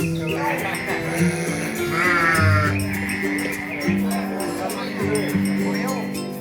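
Young contest sheep bleating at a livestock gathering, several loud, wavering calls repeating over a steady background of people talking nearby.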